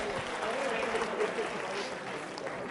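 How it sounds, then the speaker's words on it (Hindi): An audience at a quiz show claps steadily for a few seconds in a dense, even patter of many hands, moderately loud, with a voice faintly mixed in. "तालियां सभी के लिए जोरों से बजाइए आप"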